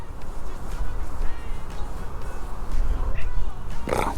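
A cat in a camper van gives a short meow near the end, heard close by over background rustle, with a person talking softly nearby.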